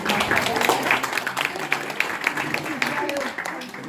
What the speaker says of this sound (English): can I have a round of applause for our wonderful host?